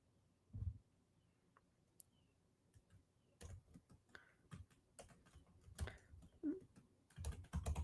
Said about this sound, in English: So let me type a comment here.